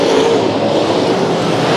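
Late model race car roaring past at speed on Bakersfield Speedway, a loud, steady engine howl filling the whole short moment with no gap.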